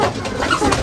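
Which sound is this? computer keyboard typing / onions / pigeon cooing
pigeon cooing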